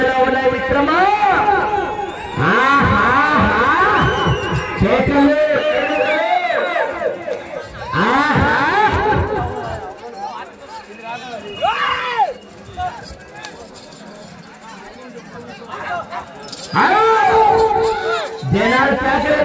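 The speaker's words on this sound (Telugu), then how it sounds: "జనాలు కేకలు పెట్టి" A village crowd at a competitive event in Olampalli, Nandyal district, shouting and cheering loudly in waves, with excited voices and babble rising and falling throughout.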